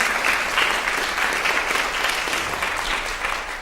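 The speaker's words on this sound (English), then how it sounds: "Maybe a round of applause for each other while you're here." Audience applause at a creative health event, a steady wash of clapping hands that holds for a few seconds and then eases slightly toward the end.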